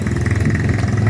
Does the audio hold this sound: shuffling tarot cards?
no